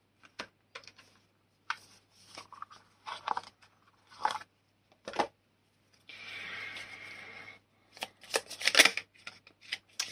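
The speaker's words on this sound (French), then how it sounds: "Je vais aller prendre une carte en plus." Oracle cards shuffled and drawn from a deck during a spiritual guidance reading, giving a series of short papery flicks and slaps with a sustained riffling shuffle in the middle, close and fairly quiet with no talk.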